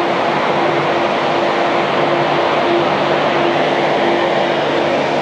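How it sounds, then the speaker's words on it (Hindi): The air-conditioning compressor of a Switch EiV 22 electric double-decker bus in Mumbai runs with a loud, steady, close hum and faint whine, unbroken by talk. "और ये जो कंप्रेसर चल रहा है इसका एसी का, ये उसकी आवाज़ है।"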